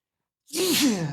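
A single close, loud human sneeze bursts out after a short silence, with a breathy intake flowing into a sharp, hissing release.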